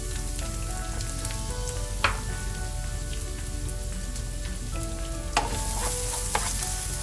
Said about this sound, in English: Now, as they brown, we're going to add the chopped onions